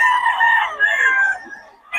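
Lakeborn banded gamefowl rooster crowing on a backyard farm, a single drawn-out crow of about two seconds, close and fairly loud, with no talk.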